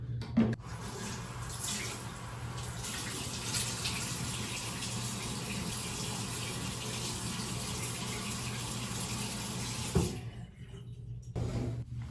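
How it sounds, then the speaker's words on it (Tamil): Water runs from a tap during face washing, a steady, soft rushing splash that continues for about ten seconds and then stops, with faint clatter near the end. "ஃபேஸை வந்து எப்பயும் போல் அதுக்கப்புறம் வாஷ் பண்ணிக்கலாம்."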